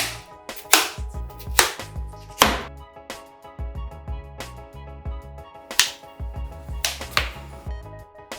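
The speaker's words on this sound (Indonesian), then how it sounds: "Potong nanas seperti ini agar lebih mudah diparut atau dicacah." Knife chopping through peeled pineapple on a board, a series of sharp, close thunks in an uneven rhythm with brief pauses between cuts, no one speaking.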